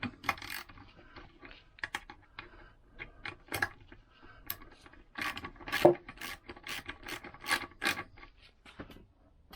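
A 14 mm clutch nut on a Vespa GS 150 scooter is tightened with a ratchet, giving close, quiet bursts of rapid clicking mixed with small metallic taps and shuffles.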